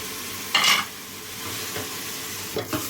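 Onions and meat fry together in a pan, a constant loud sizzle with a few brief bursts of stirring scrapes, close up and without talk.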